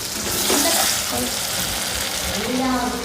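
Fish sizzling in hot oil in a curry pan, a steady loud hiss of frying close up, with faint voices under it.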